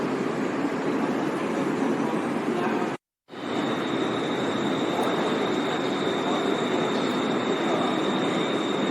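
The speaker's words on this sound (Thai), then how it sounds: "รถกำลังจะเข้าเทียบชานชาลาที่สี่นะครับ เข้าสู่ท่าป้ายขึ้นท่าพระเลยนะครับ" A Bangkok Blue Line MRT train pulls into Tha Phra station, with a loud continuous rumble and rush of carriages, a brief cut to silence near three seconds, then a steady high whine as the train rolls in close by.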